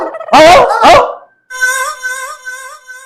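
A dog yelps twice in sharp, loud bursts, then lets out a drawn-out whining howl, close by and with no talking.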